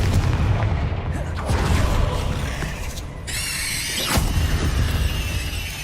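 Confringo blasting-spell explosions in the video game Hogwarts Legacy: rumbling booms with a sharp squealing magical tone and a sudden crack near the end, loud and close.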